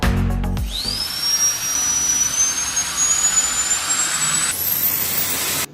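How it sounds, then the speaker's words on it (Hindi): A tiny 26 mm EDF jet engine spins up with a rising high-pitched whine that holds as a steady, loud electric scream for several seconds, then jumps higher in pitch before cutting off abruptly. "ये है दुनिया का सबसे छोटा 26 mm जेट इंजन।"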